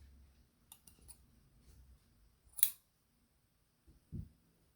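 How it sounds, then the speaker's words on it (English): A pair of sewing scissors handled up close in quiet ASMR style, with a few soft clicks, one sharp snip-like click near the middle, and a faint low thud toward the end, alone in near silence. "Now we have a pair of scissors."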